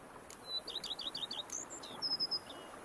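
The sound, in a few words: birds chirping in The Witcher 3 video game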